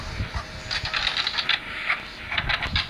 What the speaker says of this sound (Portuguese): Alguma coisa está imprimindo alguma coisa.